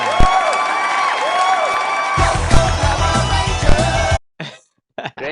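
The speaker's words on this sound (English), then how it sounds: "let's give it a big round of applause" Applause and cheering sound effect played during a livestream, a dense, loud wash of crowd clapping and whoops that swells and then cuts off abruptly near the end, followed by brief bursts.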